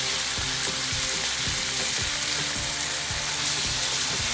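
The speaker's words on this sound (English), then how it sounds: "we're gonna brown the meat really good" Ground beef browns in hot oil with a steady, loud sizzle, while a spoon scrapes and folds the meat in regular strokes across the pan.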